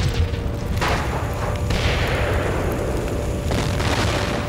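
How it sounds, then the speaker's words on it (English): Wartime bombs exploding over London, heard as a continuous, heavy rumble of deep booming blasts with no clear gaps between them, loud and dense throughout. "Bombs were soon falling on London"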